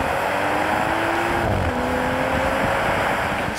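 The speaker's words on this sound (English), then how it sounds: "Here's the difference: the sound from outside." BMW M235i xDrive at full throttle, heard from outside as a loud, steady engine roar with a rising pitch, a brief dip around a gear change, then climbing again.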